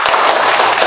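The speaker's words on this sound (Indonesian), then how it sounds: "Tepuk tangan untuk kita hari ini" A class of children claps together in a classroom, a quick burst of dense, close applause with no voices over it.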